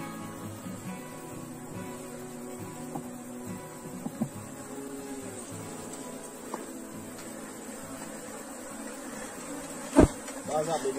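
Honey bees hum in a continuous dense drone around an open hive box, steady and close, with occasional clicks and a sharp knock near the end.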